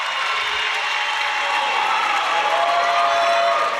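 A dense arena crowd at a college women's gymnastics meet between Michigan and Illinois applauds steadily after a floor routine, an unbroken wash of clapping and cheering that holds loud throughout.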